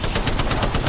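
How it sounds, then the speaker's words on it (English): Rapid automatic gunfire in the Apex Legends video game, a quick string of evenly spaced shots lasting under a second, loud and close. "Shoot Valk."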